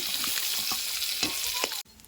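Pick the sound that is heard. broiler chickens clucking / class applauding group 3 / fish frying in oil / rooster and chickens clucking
fish frying in oil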